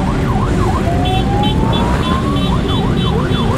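Loud vehicle siren wailing in a rising and falling pattern, with a steady higher tone joining partway through, heard close over continuous traffic and engine noise.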